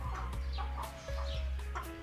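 Chickens cluck in short, repeated bursts, near and fairly quiet, with a low steady hum underneath and no talking.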